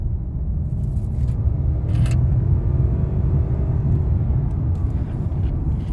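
2009 Lexus LS460 accelerating hard, a steady loud engine and road rumble rising slightly in pitch, heard from inside the car with no talk.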